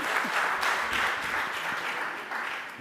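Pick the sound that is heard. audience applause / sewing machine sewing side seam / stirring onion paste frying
audience applause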